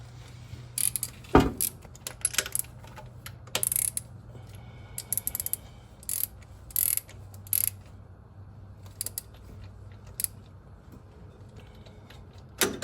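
Socket wrench ratcheting in short, sharp bursts on a 60-year-old engine, with a 13/16 socket, close and dry with gaps between strokes and one heavier clunk.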